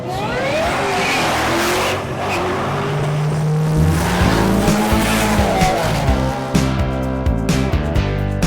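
A loud rally car engine at Big Sky Rally 2016 revs and accelerates hard, with tires squealing and skidding as the pitch climbs through the gears.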